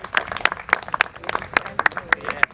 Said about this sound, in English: applaudissez pour notre organisation